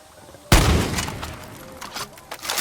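A single loud shotgun blast in Far Cry 6 booms close up, its crack fading into a long rumbling tail with scattered debris and shattering behind it.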